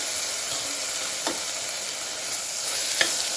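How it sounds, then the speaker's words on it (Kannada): Ginger garlic paste with chopped tomato frying in a pan for a dill leaf pulao, a steady close sizzle with a few sharp clicks of a spoon stirring, no voices. "ಇದರ ಹಸಿ ವಾಸನೆ ಹೋಗೋ ತನಕ ಇದನ್ನು ಫ್ರೈ ಮಾಡ್ಕೊಳ್ಬೇಕು."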